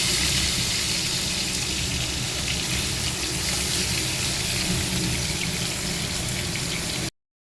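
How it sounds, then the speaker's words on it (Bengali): Fish fries in a pan with a loud, constant sizzling hiss that holds steady for about seven seconds before cutting off abruptly. "মাছটা ভেজে তারপর ঝোলটা দিয়ে দেবো।"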